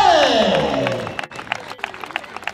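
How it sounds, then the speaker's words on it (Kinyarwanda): A speaker's voice is followed by a crowd's scattered applause and clapping for the winning Groupe Scolaire Cyarwa under-15 boys' football team at a school tournament final, sparse and moderately close. "ubundi natwe tubaha amashyi menshi cyane"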